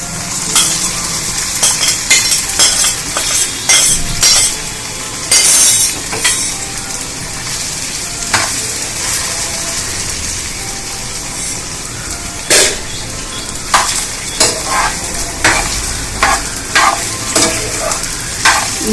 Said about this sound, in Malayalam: ഇതൊരു 4-5 മിനിറ്റ് ചെറിയ തീയിൽ ഇങ്ങനെ ഇളക്കിക്കൊണ്ടിരിക്കണം